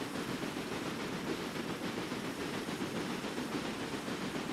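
A train rolls along in the Railway Empire railroad management game, a steady continuous rumble with faint rail clatter, held at an even level throughout with no talking.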